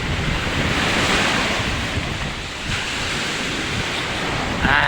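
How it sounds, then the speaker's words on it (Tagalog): Strong ocean surf crashes continuously, a loud roaring wash of waves mixed with gusty wind buffeting the microphone, with no voices. "Yan ho, napakalakas ang alon."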